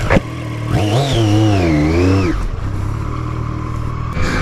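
A 2020 Triumph Street Triple S A2 motorcycle revs up loudly nearby and rides off. The rising, wavering engine note fades into a lower steady drone as it pulls away.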